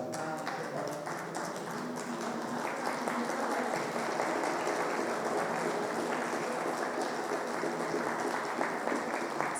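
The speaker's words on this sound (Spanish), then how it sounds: "Sí, es un aplauso" An audience at a 75th anniversary celebration of a municipal historical archive in León claps steadily, a moderately quiet, continuous patter of applause lasting nearly ten seconds with faint voices beneath.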